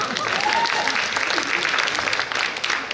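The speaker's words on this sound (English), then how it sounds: "I hear the applause is getting weaker and weaker." Audience applause at a 50th golden jubilee celebration of a Kerala community association in greater New York, steady moderate clapping from a crowd with a faint tonal whistle or feedback early on and some voices mixed in.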